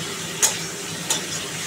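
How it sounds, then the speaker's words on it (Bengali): Spice paste cooking down in oil for a prawn and potato curry, a steady close hiss of frying with two brief spatula scrapes against the pan. "মানে মশলা কষানো হয়ে গেছে"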